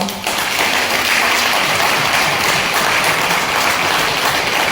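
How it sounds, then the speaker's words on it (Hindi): Sustained applause from an audience gathered to honour breast cancer survivors and women icons, a dense steady wash of clapping that starts abruptly and holds at an even, loud level throughout. "आप सबके लिए एक जोरदार तालियां।"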